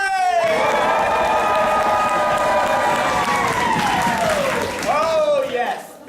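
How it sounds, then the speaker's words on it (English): A theater audience at a live Brothers Grimm improv performance roars with loud raised voices and cheering that fill the room throughout. Any stomping or clapping is buried under the shouting. "raise your voices, stomp your feet, and clap your hands"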